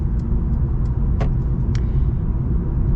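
A 2025 Mercedes CLA on the move, a steady low road rumble and engine hum throughout, with a few faint ticks and clicks from the cabin rising above it.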